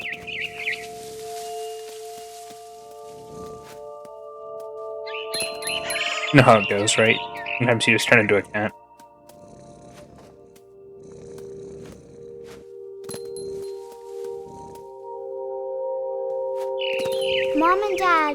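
Bird chirping in the video game What Remains of Edith Finch, heard as bright high calls in short bursts, including a burst near the end, alongside game sounds and a narrating voice.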